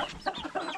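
Three roosters at a small broiler-raising homestead cluck in short, close, overlapping bursts, a quick irregular run of throaty clucks with no talk.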